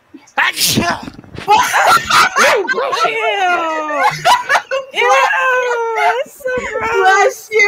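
A person sneezes once, sharply, during a Super Mario Maker gaming session, and the sneeze is quickly followed by close, animated talking from people nearby.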